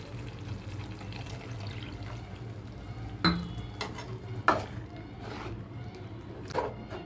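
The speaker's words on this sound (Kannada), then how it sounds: "ಇವಾಗ ನಾನು ಸ್ವಲ್ಪ ನೀರು ಆ್ಯಡ್ ಮಾಡ್ಕೊತಾ ಇದ್ದೀನಿ" A spoon stirs tomato gojju in a pan after a little water is added, producing soft wet bubbling and sizzling with a few sharp clinks of utensil against the pan, fairly quiet throughout.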